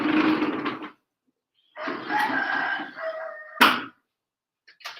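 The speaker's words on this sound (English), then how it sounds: "I do got lots of noisy roosters." Roosters crow outside a window in Vientiane, Laos. Two long, loud cock-a-doodle-doo calls come fairly close, separated by a short pause, followed by a sharp click and faint noises.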